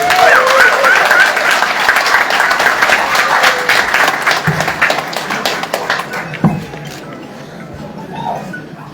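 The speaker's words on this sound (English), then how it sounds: "A round of applause for him." A large audience at a police ceremony for an acting Inspector General claps loudly at first, then the applause thins into scattered, fading claps with a few isolated knocks near the end.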